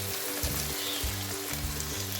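Spice masala with tomatoes frying in a pan for aloo palak (spinach and potato), a dense continuous sizzle with a few soft stirring knocks underneath, close and alone without speech.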